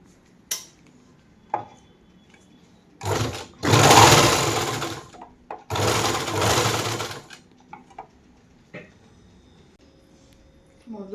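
A tailoring sewing machine with its foot pedal removed, turned by hand to stitch a blouse, whirs loudly in two bursts of a few seconds each, surrounded by scattered clicks and knocks; no one talks.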